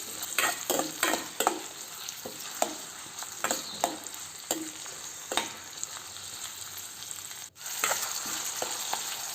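Chopped onion and cumin seeds frying in oil for palak paneer, a continuous sizzle punctuated by repeated clattering stirs of a spoon against the pan, one brief dropout near the end.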